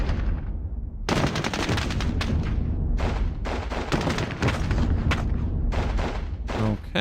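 Heavy gunfire and mortar fire in the wargame Squad Battles Eagles Strike rattle in dense, loud bursts, with machine-gun volleys and booming impacts coming in waves. No voices are heard.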